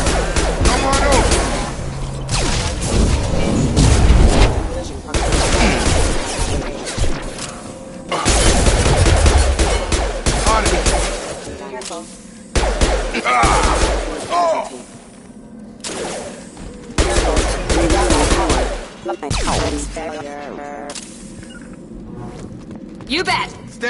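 Rapid bursts of gunfire in the Mass Effect game on PS5, loud and repeated in clusters, with voices speaking over the combat between volleys.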